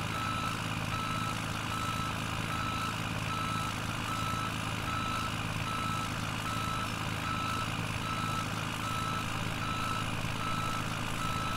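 A truck in the Farming Simulator 17 game reverses with a steady, continuous beeping alarm over a constant engine drone, evenly loud throughout with no voices.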